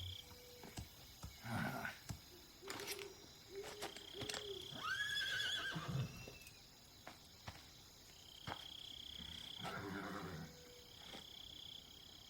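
A horse whinnies amid an outdoor Metal Gear Solid 3: Snake Eater soundscape, with chirping insects, faint hoofbeats and scattered rustling effects, the neigh rising in the middle.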